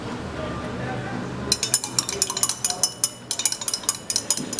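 A stirring rod or spoon clinks rapidly against a glass vessel as MS plant tissue culture medium is mixed in a biotechnology lab, the bright taps starting partway through and continuing in a quick irregular rhythm.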